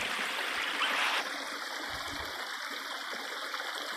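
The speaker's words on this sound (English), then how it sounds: "And I made a couple waterfalls on this side." Water trickles and splashes steadily along a backyard creek built from rearranged rocks with no pond liner, over small waterfalls, a soft continuous rushing heard close up with no voices.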